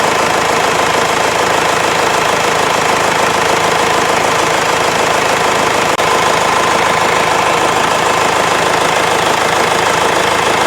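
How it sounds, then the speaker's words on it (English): Ford Transit Connect 1.8 TDdi diesel engine idling, with a steady, loud mechanical clatter and drone that holds level throughout with no talk. "engine at idling speed inlet manifold pressure. Once again, as the engine is idling,"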